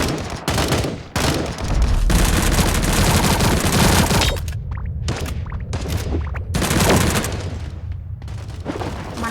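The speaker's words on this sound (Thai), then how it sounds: "นั่นยิงรัวได้เลย" Rapid, dense bursts of automatic gunfire in the Sausage Man video game, loud volleys rattling almost nonstop with a few brief gaps and booming hits mixed in.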